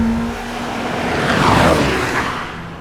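A Lamborghini Temerario 907hp V8 supercar engine roars loudly and climbs in pitch as it revs hard toward 10,000 RPM, with a rushing passing sweep, close and continuous.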